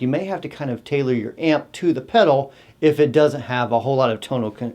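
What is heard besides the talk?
No everyday noises stand out.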